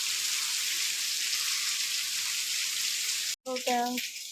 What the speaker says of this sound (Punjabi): ਫੁੱਲ ਤੇਜ਼ ਮੀਂਹ ਆ